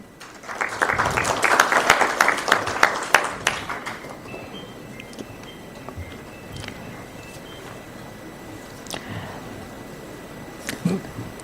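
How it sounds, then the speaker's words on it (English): Audience applause at a CII Partnership Summit roadshow in Mumbai swells loudly for a few seconds, then thins to scattered claps and room murmur, with a couple of faint pings. "And a big round of applause."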